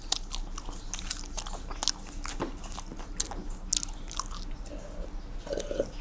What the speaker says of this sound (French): vous allez avoir des bruits de croustilles